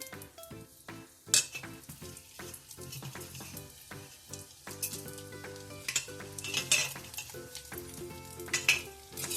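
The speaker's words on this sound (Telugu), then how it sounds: "ఇప్పుడు తాలింపుకి మినపప్పు, ఆవాలు, 2 ఎండుమిరపకాయలు వేస్తున్నాను." Loud crackling and popping as urad dal, mustard seeds and dried red chillies hit hot oil, with scraping and clinking of a utensil stirring the pan.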